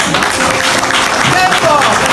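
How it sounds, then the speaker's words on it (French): Applause from a seminar audience: a continuous wash of clapping with voices and cheers mixed in, loud and sustained throughout. "Alors, applaudissez très fort."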